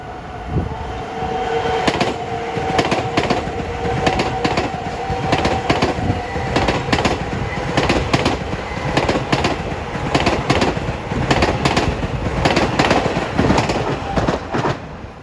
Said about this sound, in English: here comes 1564, Penn Station to Huntington with M3s